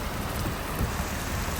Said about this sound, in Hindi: बारिश की स्पीड में आपको चेक करवाता हूँ कितनी तेज़ हो रही है